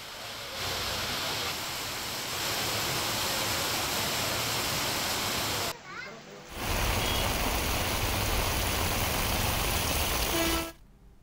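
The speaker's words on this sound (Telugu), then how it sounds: "వాన దంచుకొడుతోంది." Heavy rain pours down in Hyderabad as a dense, steady roar that stays loud and unbroken, except for a brief lull near the middle and a cutoff at the very end.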